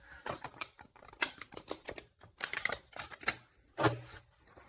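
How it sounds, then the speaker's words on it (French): Tarot cards shuffled by hand in a quiet room, a quick run of dry, papery riffles and taps in uneven bursts, close and fairly soft, with no talking over them. "Je mélange bien les cartes"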